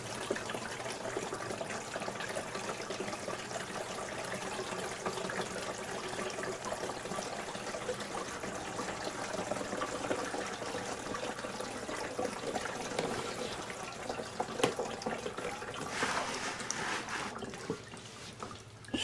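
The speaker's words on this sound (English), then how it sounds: "It doesn't pour right in, it kind of is draining down, but I've got a 2-gallon bucket here" Water drains from a top-fill humidifier into a nearby 2-gallon bucket, a soft continuous trickle and dribble with faint splashes, quiet and steady with no talk.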